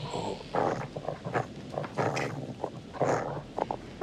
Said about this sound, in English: he would meet the dog for the first time